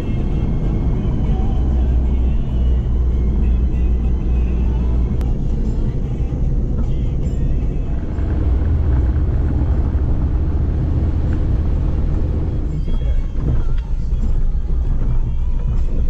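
An Eco taxi car drives along a road, its engine hum and tyre roar steady and loud from inside the vehicle, with buffeting wind noise and a faint voice at times.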